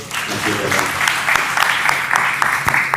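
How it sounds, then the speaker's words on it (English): Round of applause from the audience at an alumni convention in North America, a steady, dense clapping that stays loud for several seconds, with voices mixed in underneath. "Let's give a round of applause to him."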